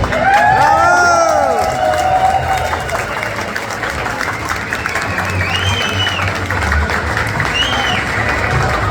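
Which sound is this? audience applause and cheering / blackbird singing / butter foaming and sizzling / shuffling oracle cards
audience applause and cheering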